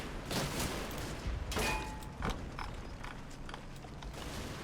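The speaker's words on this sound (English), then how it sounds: "General was trying to put some fire down here with a Bren team" In the Combat Mission wargame, a Bren gun team's automatic fire comes as quick faint bursts and scattered cracks against a dim battlefield backdrop, distant rather than close.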